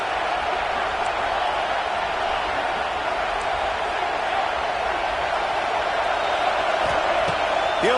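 A stadium crowd in the College Football 26 video game roars steadily on a fourth down, a dense, constant wash of noise.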